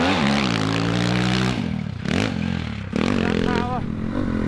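An old, slow motocross bike with lazy power, riding along; its engine drones steadily and loudly, dipping and rising in pitch with gear and throttle changes.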